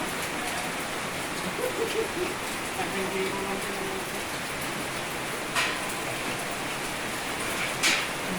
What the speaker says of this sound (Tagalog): wala nang tigil ang ulan dito